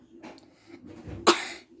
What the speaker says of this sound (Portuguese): Tem que tossir, ó, às vezes.